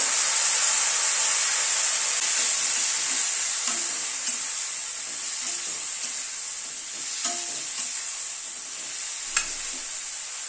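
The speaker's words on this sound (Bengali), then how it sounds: "সামান্য পরিমাণ একটু জল দিয়ে দিচ্ছি মশলাটা কষানোর জন্য" Ground roasted coriander and cumin masala with a splash of water hisses and sputters in a pan, a loud continuous sizzle with occasional spoon taps against the pan, no voices.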